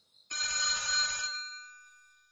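A telephone suddenly starts ringing indoors on a desk, a single loud electronic ring burst that cuts off and then lingers as a fading tone, with no one talking.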